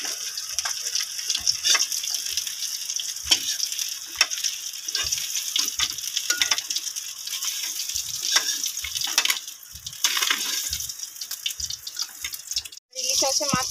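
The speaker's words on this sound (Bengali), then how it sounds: "ইলিশ মাছের মাথা, লেজ, এগুলো সেই তেলে ভেজে নেব" Hilsa fish head and tail fry in hot oil, a steady close sizzle broken by repeated spatula taps and scrapes, with a brief dip near the end.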